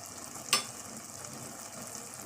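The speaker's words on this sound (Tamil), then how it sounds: "இப்போது நம்ம சில்லி பேஸ்ட்டை சேர்த்துருவோம்." Chilli paste drops into mushrooms cooking in a pan for biryani, giving a faint, steady sizzle with one brief louder splat near the start.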